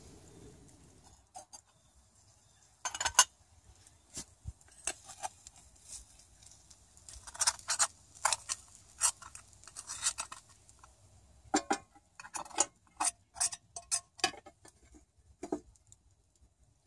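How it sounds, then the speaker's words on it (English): Potatoes are stirred in a skillet over an outdoor grill, with irregular bursts of scraping and clinking from a utensil against the pan, scattered through mostly quiet, faint background sizzle. "Better stir them taters again."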